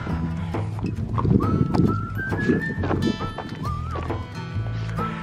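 Horses shuffle and move nearby at a farm barn with scattered hoof clops and snorts, while a high, wavering whinny-like call sounds briefly in the middle.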